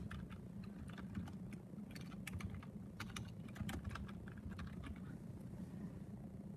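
A class name being typed on a computer keyboard, heard as quiet, steady key clicks in short bursts over a low background hum. Nobody speaks.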